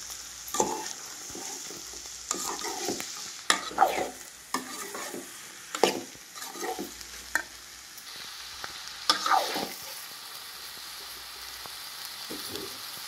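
Ridge gourd pieces sizzle as they fry in a pan with onions for a dried prawn curry, broken by repeated bursts of stirring and scraping, close and fairly loud, with no talking.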